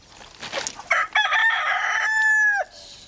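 A Paduan hen, a crested breed, calls loudly and close by: a few short clucks, then a sustained rising, crow-like cry lasting about half a second before it cuts off.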